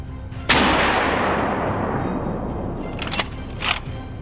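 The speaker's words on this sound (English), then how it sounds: "Without a moment's hesitation, he fired a powerful shot." A single powerful rifle shot fired at wild boars during a hunt, a sharp loud crack with a long rolling decay, followed by fainter noises.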